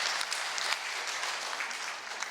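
A congregation claps throughout a Korean church service, a steady, dense round of applause that holds even and continuous from start to finish.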